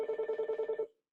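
An office telephone rings in a rapid electronic trill of about nine even pulses, fairly close and clear, then cuts off abruptly into silence.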